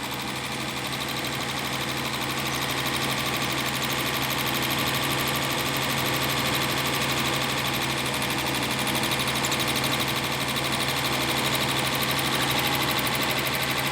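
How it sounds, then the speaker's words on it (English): Engine fitted with a Zenith 3540 carburetor idling steadily, a dense continuous hum and rattle with no clear change in pace, close and fairly loud throughout. "the idle speed picks up just a little bit."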